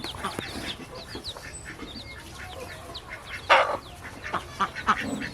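A village farmyard chorus of ducks quacking alongside clucking hens, scattered calls near and far with a louder burst midway.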